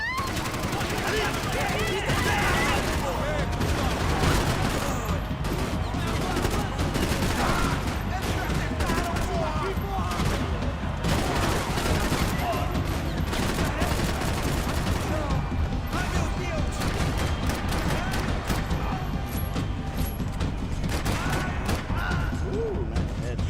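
Sustained, dense gunfire from the video game Max Payne 3, with rapid bursts of shots and loud crashes running continuously for over twenty seconds, a player's voice sometimes talking over the shooting.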